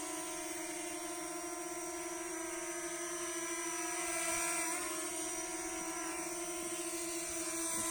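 An Eachine EX4 drone hovering in the air, a continuous high-pitched whine of buzzing propellers with steady layered tones, holding nearly constant at moderate distance with no talking.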